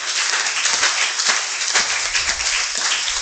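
A church congregation at a Sunday service claps steadily together in dense, continuous applause, loud and close, with no speech over it.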